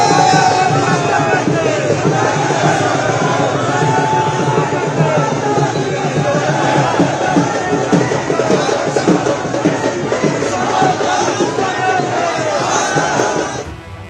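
A dense crowd at a political road show in Solan roars and chants continuously, with cheering voices and babble packed together, loud and close throughout.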